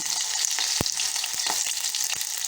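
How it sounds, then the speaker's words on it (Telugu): Green chilies and mustard seeds fry in hot oil, a close steady hiss of sizzling broken by sharp pops and crackles. "సో ఇప్పుడు ఆయిల్లోని పచ్చిమిరపకాయలు, ఒక ఆవాలు వేసుకొని"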